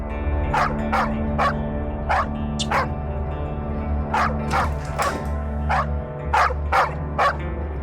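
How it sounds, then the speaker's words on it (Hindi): A dog kept tied on a balcony barks repeatedly in short sharp bursts, loud and near, over a steady low hum. "पूरे टाइम भौंकता रहता है।"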